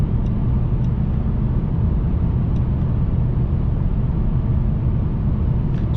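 A 2021 Mercedes-AMG E63S sedan cruising at speed gives a loud, constant low engine and exhaust drone mixed with road and wind roar, steady throughout and with no talking.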